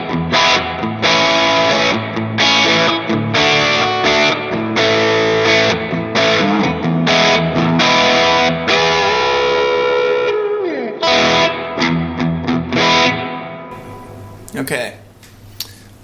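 Electric guitar playing crunchy overdriven chords through a Celestion Vintage 30 speaker, middle pickup position, strummed loudly in a steady rhythm before ringing out on a sustained note that fades into a brief noisy scrape.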